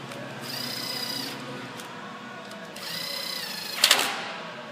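A power tool runs bolts snug on a Ford Taurus 3.0L 12-valve engine during a head gasket job, with two whirring bursts, the second ending in a short sharp clatter.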